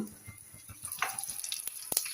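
Cumin, urad dal, red chilli and curry leaves sizzling in hot oil for a tempering, a soft close crackle with quick pops and light spattering, a few sharper bursts near the end.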